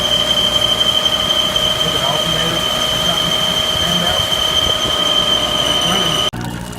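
A houseboat generator runs loud and close with a piercing, steady high-pitched squeal over its engine drone, continuing for several seconds before abruptly cutting off.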